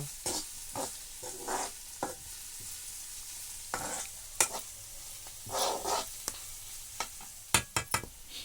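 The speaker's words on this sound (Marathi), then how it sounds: "पहिली फोडणीच देऊ काय ना मिरची आणि कांदा भाजून घेऊ" Chilli and onion frying in hot oil, a steady sizzle broken by repeated scraping stirs of a spatula against the pan, with no voices.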